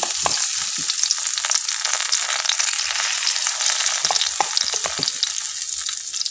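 Jackfruit snack pieces frying in hot oil, a steady close sizzle with scattered pops and crackles throughout, no talking.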